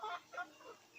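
Chickens feeding on worms in goat-manure compost cluck softly in a few quick, faint calls close by.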